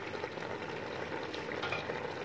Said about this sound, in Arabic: سرت عاد اللحم هو التقلية، يتقلى لنا مزيان باش يشرب العطريه مزيان